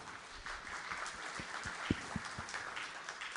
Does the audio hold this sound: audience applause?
yes